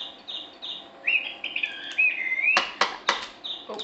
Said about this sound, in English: Singing birds.